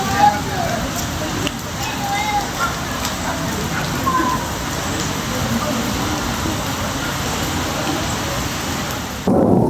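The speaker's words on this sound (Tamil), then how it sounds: "சும்மா இடி எல்லாம் வேற மாதிரி இருக்கு" Heavy rain pours steadily at Vaniyambadi railway station with rolling thunder, a dense loud roar throughout that cuts off abruptly near the end.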